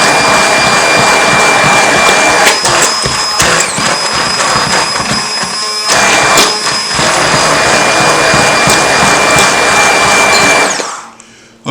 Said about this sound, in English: An immersion blender will do all of the work of mixing this up for you.